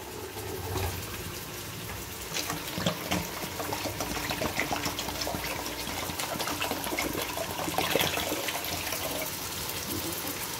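Water for chicken pulao is poured into a cooking pot, a continuous moderately quiet splashing gush with small surges, heard alone without speech.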